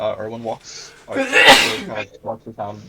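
A single loud sneeze bursts out in the middle of a tabletop role-playing game session, with players talking just before and after it.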